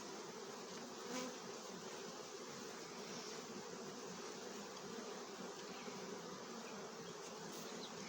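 Honey bees swarm around their hives after the sunflower bloom, a steady dense buzz of many insects holding evenly throughout with no voices.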